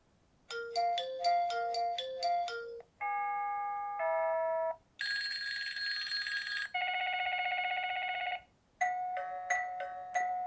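Eufy Homebase doorbell chime options play one after another: rapid ringing trills, soft sustained tones, a buzzy electronic note, and plucked ding patterns, each separated by brief gaps, close and clear with no talk.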